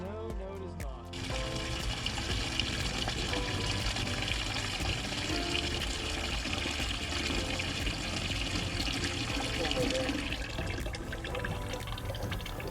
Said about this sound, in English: While all that water and oil is draining out